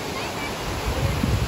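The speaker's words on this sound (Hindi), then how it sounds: "this is a waterfall" A waterfall near Naggar in Himachal Pradesh gives a steady, broadband rushing roar, dense and continuous, with low rumble building toward the end and a faint voice underneath.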